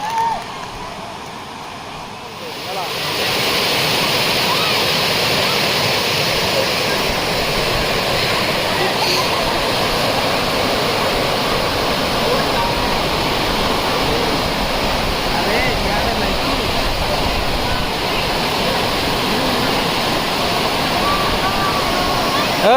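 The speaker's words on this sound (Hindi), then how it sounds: "पुंजीशिल वाटरफॉल" Punjisil waterfall in Laxmipur, Koraput, gives a loud, constant broadband roar of falling water that swells up after a quieter opening moment, with brief talk near the start.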